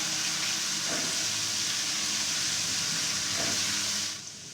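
Garlic frying in a pan for vegetable fried rice, a steady broadband sizzle and hiss that runs continuously for about four seconds before dropping away, with no talking.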